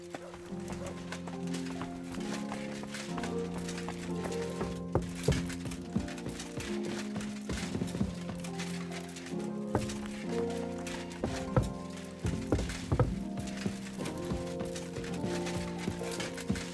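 Horse hooves clip-clop in the medieval video game Kingdom Come: Deliverance II, a steady rhythmic trot mixed under a sustained musical score and ambient game sound.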